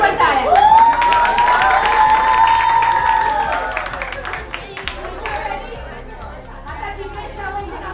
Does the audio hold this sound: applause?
yes